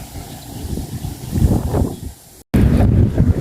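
Strong gusts buffet the microphone outdoors during tilapia fishing as the weather turns ahead of rain, a loud, rough, broadband rumble that swells and eases with a brief dropout midway, with no voices.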